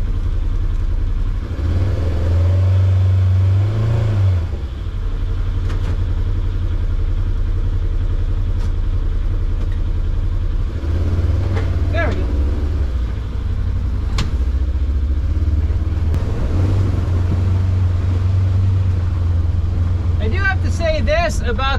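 A 2014 or 2015 Polaris Ranger 900XP UTV on a test drive, its engine droning low and steady with a few rising revs, loud and close, and no talking.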